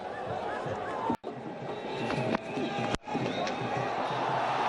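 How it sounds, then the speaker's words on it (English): A large, noisy crowd at a cricket ground during an India versus New Zealand one-day international roars steadily throughout, a dense wash of cheering and chatter broken by two brief cuts. "this large crowd here today, a very noisy crowd"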